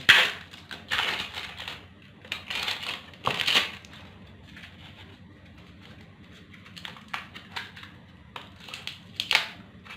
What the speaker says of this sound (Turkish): Üst kaplamasını sökelim bakalım nelerle karşılaşacağız.